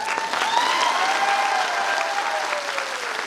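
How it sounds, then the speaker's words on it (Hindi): Steady, dense applause from a large audience at a speech, clapping continuously at a loud level throughout, with a faint whistle rising above it. "आसाम का लोग ताली तो बजाता है"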